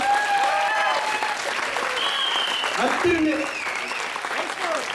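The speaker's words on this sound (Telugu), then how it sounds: "ఇంకోసారి చప్పట్లు కొట్టండి" An audience claps for a group of young girl performers at a Dasara celebration. The applause is loud and close and fills the whole stretch, with a voice speaking over it.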